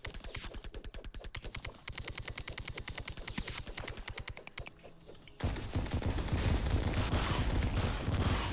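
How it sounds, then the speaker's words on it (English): Martian enemies fire in the video game Terraria with rapid, evenly spaced shots in long bursts, followed by a denser, louder wash of overlapping game noise. "Because I hear something shoot."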